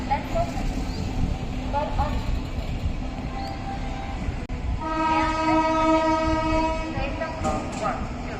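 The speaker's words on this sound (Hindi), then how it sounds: "WP4 का हॉर्न" A WP4 diesel locomotive horn blares in long, loud steady blasts over rumbling station noise, with voices and an announcement murmuring beneath.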